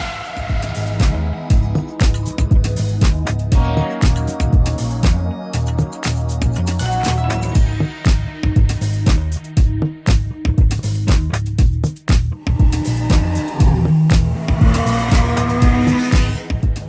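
Race cars buzzing past in a driving simulator, loud engine notes repeatedly surging and dropping away in quick succession, with tire squeal and a rapid pulsing rhythm, no talking.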